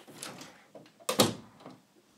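A door closing in the video game Five Nights at FatBears, a couple of short mechanical sliding thuds, the loudest sharp clunk near the middle, fairly close and alone.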